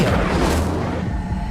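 An Incendio fire spell goes off in the video game Hogwarts Legacy, a loud, deep whooshing boom that swells and then fades.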